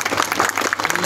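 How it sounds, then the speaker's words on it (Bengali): Audience members at a scholarship award ceremony clap together in a short, dense burst of applause that fills the moment with no pauses. "একটা জোরে হাততালি দেন।"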